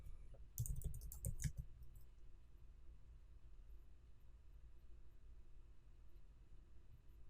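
A computer keyboard clatters with a quick burst of keystrokes as a search term is entered, then falls silent into a faint background hum.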